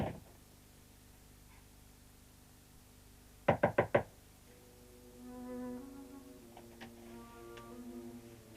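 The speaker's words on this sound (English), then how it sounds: "Go in, I said, and don't come out until I knock." Four quick, crisp knocks rap on a door in a quiet interior scene from a 1976 period film, followed by soft tonal music.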